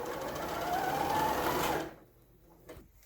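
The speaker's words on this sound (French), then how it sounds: "je repars de l'angle et puis je couds jusqu'en bas" A home sewing machine stitches a dress facing from a corner down to the hem, a steady close whir that runs for a couple of seconds before stopping, leaving near silence with a faint knock.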